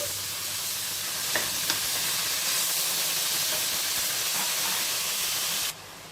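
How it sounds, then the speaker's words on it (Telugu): Bottle gourd pieces cooking in a hot spice tempering, a loud continuous hissing sizzle with a couple of faint clicks early on, that cuts off abruptly near the end with no talking. "ఇప్పుడు ఈ సొరకాయ ముక్కల్ని మనము ఈ పోపులో బాగా మగ్గనివ్వాలి వాడనివ్వాలి"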